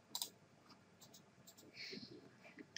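Computer mouse clicks while navigating an autotrading platform, a few quiet, sharp clicks in close succession over a hushed room background.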